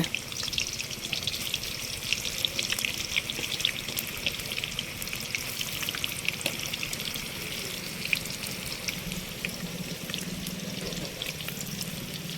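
Onions frying in masala for a homemade chicken curry, a steady crackling sizzle with light stirring and bubbling that holds at an even, moderate level throughout, with no talk.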